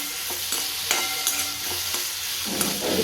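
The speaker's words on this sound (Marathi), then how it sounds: "मी आता कांदा टमॅटो आणि लसूण थोडासा कढईमध्ये टाकून पसून घेते" Onion, tomato and a little garlic fry in a kadai for a paneer curry, with a close, steady sizzle and repeated spoon scrapes and clinks as the mixture is stirred.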